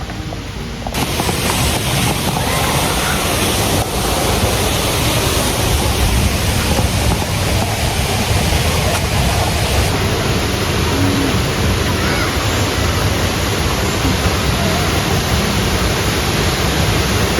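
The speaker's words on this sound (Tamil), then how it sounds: "தெரியுதா ஃபால்ஸு சவுண்டு?" Soormane waterfall in Kalasa, Karnataka, pouring with a strong flow: a loud, steady broadband roar of rushing water that fills the whole stretch without letting up, with no voices over it.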